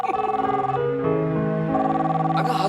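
A telephone rings with a warbling electronic bell tone that repeats steadily, loud and close, with a brief faint noise near the end.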